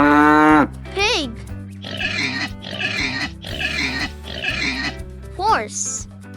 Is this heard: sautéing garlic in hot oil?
no